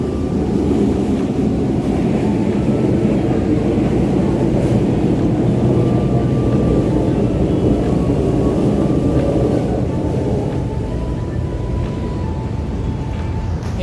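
An LRT light rail train rumbles past near Arroceros Park, a steady, loud low roar with wind buffeting the microphone, holding for the whole stretch without talk.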